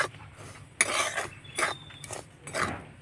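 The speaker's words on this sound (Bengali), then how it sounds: "একটু শুকনো খোলায় নাড়াচাড়া করে সুজিটাকে ভেজে নেব" Dry semolina (suji) stirred and roasted in a wok, with a spoon scraping and tapping against the pan in several short bursts and quieter gaps between them, close up and with no talk.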